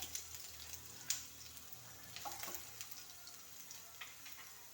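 Mustard seeds splutter in hot oil in a pan, giving faint, scattered pops and crackles with quiet gaps between them, and no voices.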